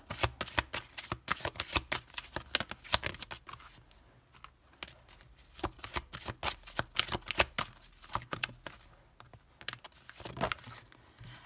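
Oracle cards for a love reading are shuffled by hand in a quick, crisp run of riffling and flicking bursts. The shuffling comes up close and fairly quiet, with brief pauses between flurries.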